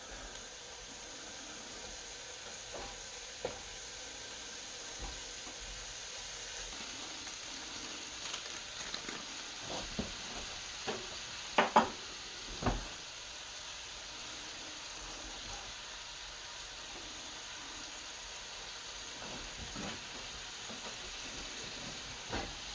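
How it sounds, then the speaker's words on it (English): Ground venison browning in a large skillet, a steady low hiss of sizzling meat with occasional soft clinks and scrapes of stirring, faint and continuous, no talk. "First thing we're going to do is brown up the venison"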